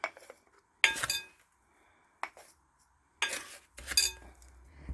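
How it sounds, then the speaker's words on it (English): Bath salts are scooped into a glass jar in separate bursts of gritty rattling and clinking glass, close and fairly faint, with short silent pauses between scoops and no speech. "you're just going to grab your scoop. And you're just going to scoop that in."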